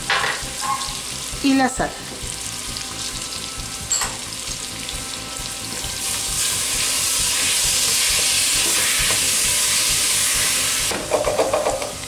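Onion, tomato and bacon sizzle loudly in a pan while a utensil scrapes across the bottom, the hiss swelling and steaming midway, with a few brief clatters and a short spoken remark.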